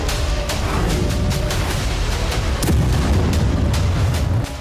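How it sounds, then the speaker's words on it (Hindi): Russian artillery fire and kamikaze drone strikes against Ukrainian military vehicles in the Kursk region, loud repeated booms and blasts in quick succession with one heavier impact midway, over a dense rumbling battlefield background. "रूसी तोपें और कामिकाज़े ड्रोन यूक्रेन के सैन्य वाहनों पर बमबारी कर रहे हैं।"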